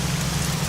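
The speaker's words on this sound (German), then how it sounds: "Der Regen ist sehr laut, ich hoffe ihr hört mich." Heavy rain pours down in the game Arma 3 (Altis Life), a loud, steady, close wash of falling water with a low hum beneath it and no talking.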